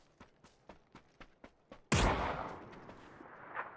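Gunfire in PUBG on Erangel: a string of fairly faint, evenly spaced single shots, then one much louder close blast that rings out and decays, with a further distant shot near the end.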